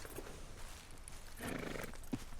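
A horse in the video game Red Dead Redemption 2 clops along in the wilderness, with faint hoof beats and a brief snort or whinny over a quiet outdoor background.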